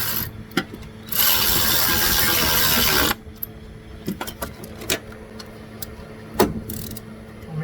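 Ratchet tightening alternator bracket bolts on a 2006 Saturn Vue 3.5L, heard as a burst of steady whirring noise followed by scattered sharp clicks and metallic taps, fairly quiet and close.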